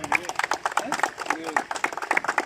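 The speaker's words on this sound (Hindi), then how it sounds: "जोरदार तालियां जरा एक बार" Crowd clapping at an outdoor village kabaddi match, a steady patter of many hands heard under a voice talking over it.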